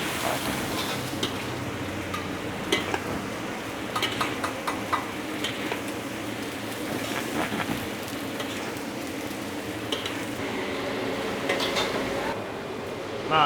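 A large batch of spices is stir-fried for Padang sauce to go with chicken fillet. The steady, close sizzle and crackle run the whole time, with scattered sharper pops and no talking.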